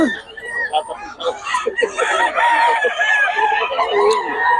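Boss Perry's chickens crow and cluck loudly and close by, with several overlapping calls among a bustling crowd while people talk nearby.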